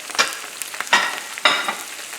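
Salmon with tarragon cooks in a pan with a close, bright sizzle that swells in three or four short bursts as the fish is moved, settling back to a softer hiss between them.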